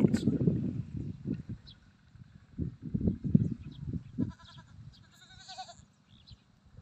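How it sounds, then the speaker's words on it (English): Goats on a farm in the Philippines bleating nearby in several short, loud calls, with a few faint high chirps and light knocks in the background. "Goats!"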